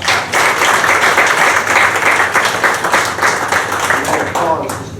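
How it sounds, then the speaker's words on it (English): Loud, steady applause from the audience at a city council meeting, a dense wash of many hands clapping that holds for several seconds before easing slightly. "let's give them a round of applause."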